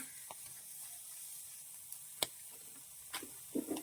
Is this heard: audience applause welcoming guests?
no